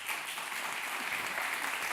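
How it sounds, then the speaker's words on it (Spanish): Steady, dense audience applause at a healthcare research conference session, continuous clapping from a seated crowd with no pauses throughout. "un fuerte aplauso también para ellas y para nuestros ponentes"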